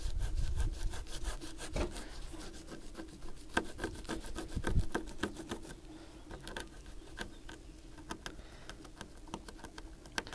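Silicone sealant being scraped off an Audi A4 headlight, a steady rasping, sawing-like scrape with repeated short strokes, close and continuous for the whole stretch with no talking.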